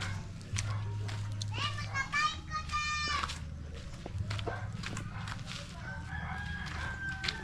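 A rooster crows and hens cluck nearby, mixed with children's voices and people talking outdoors.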